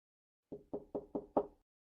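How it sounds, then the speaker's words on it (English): Five quick knocks on a door as a game sound effect, evenly spaced and crisp, close and isolated against silence. "The knock at the door catches me off guard."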